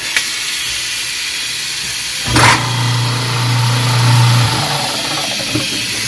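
An InSinkErator garbage disposal switches on with a brief whoosh, then runs with a steady hum and grinding whir over background hiss.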